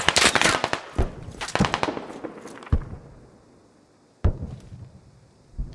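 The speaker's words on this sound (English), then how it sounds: "Enemy shooting from straight south of the machine gun." Gunfire in the Squad video game on the Kemdesh map, with rapid bursts of sharp, loud shots and cracks up front, then isolated single reports with fading echoes between them.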